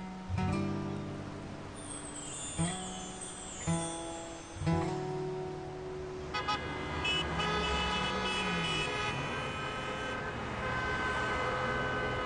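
Car horns honking repeatedly on a street, several short and sustained toots overlapping amid traffic, with background music and no clear talk.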